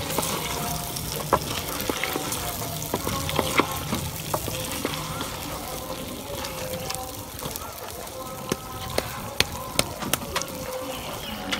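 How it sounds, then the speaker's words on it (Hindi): Potatoes stirred and roasted in masala sizzle steadily in a pan, with sharp scraping clicks from stirring scattered throughout and a voice speaking now and then. "आलूओं को भी हम अच्छी तरह भून लेंगे"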